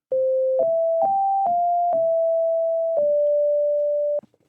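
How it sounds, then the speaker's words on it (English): A synthesizer sine wave plays pure, smooth electronic tones in a short six-note melody, each note a clean steady pitch, ending on a longer held note. "Here's the sine wave,"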